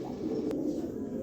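An Afsan grizzle female pigeon coos close by in a low, steady throaty burble with a brief sharp click partway, no one talking over it.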